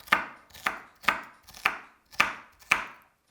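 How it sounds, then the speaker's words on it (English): Knife chopping carrot and celery small on a board: six crisp, evenly spaced strikes about half a second apart, close and clear with no talk. "I'm still chopping everything small to get maximum flavour."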